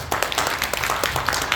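An audience at a Busan citizens' forum in the Saha-gu district office hall claps, a dense run of quick, close hand claps in an uneven rhythm.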